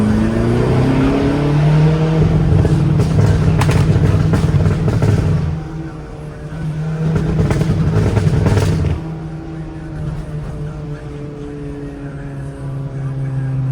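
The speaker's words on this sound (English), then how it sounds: "you get to hear the tires rub" A car is driven hard with its tires rubbing, a loud engine roar that eases around the middle and then builds again with scraping, rushing texture, while people shout over it.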